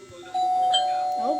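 A doorbell chimes once with a clear, sustained electronic tone that rings on and fades slowly, close and fairly loud.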